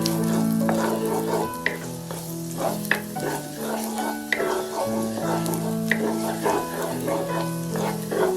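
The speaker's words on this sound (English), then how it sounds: "Heat some oil in a skillet over medium heat. Add the finely chopped garlic and sauté until fragrant." Finely chopped garlic sautés in hot oil in a skillet over medium heat, a close, steady sizzle broken by occasional stirring scrapes and clicks, with a low hum beneath.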